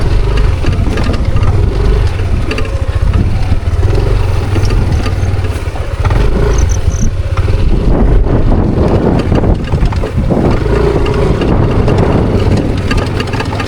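A motorcycle engine labours steadily at low revs along a rough forest road, loud and close with constant rumble, wind buffeting the microphone and occasional rattles and knocks as the bike jolts over bumps.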